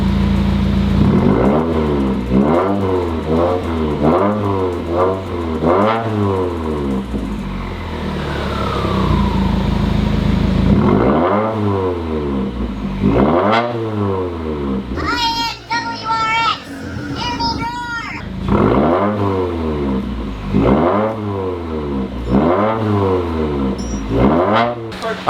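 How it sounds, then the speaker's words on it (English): A Subaru WRX with an FA20 engine revs repeatedly in a shop during a coolant bleed, each rise and fall of engine speed loud and close, with a short pause midway and brief voices cutting in. "Let's give it some revs. Let's get these bubbles moving through here."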